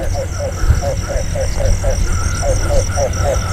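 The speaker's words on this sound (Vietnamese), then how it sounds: "Trời ơi, nhái nè các bạn ơi." Frogs croak at night in a rice field in the Mekong Delta region, a rapid repeated series of throaty calls in a steady rhythm against a loud background hum, with a voice speaking at times.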